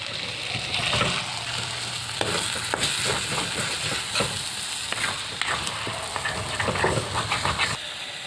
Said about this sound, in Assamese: এতিয়া মই এইটো জাষ্ট লৰাই দিম